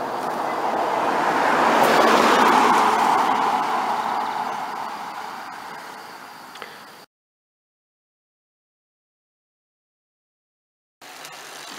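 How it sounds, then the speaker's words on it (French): A car on a road near Montcuq, France swells up loud and broad, peaks early, then fades away over several seconds before falling silent; it is heard alone, with no talking. "vous entendez le bruit? Ça c'est une voiture"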